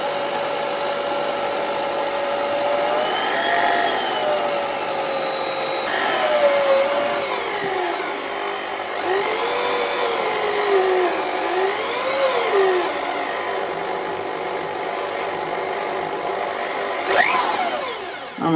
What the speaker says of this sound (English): If I run the drill too fast, it starts to shake